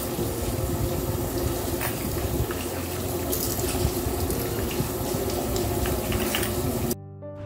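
Thin flattened rice (chira) is washed with water in a kitchen, giving a continuous close splashing and running-water sound that stops abruptly near the end, with no voices.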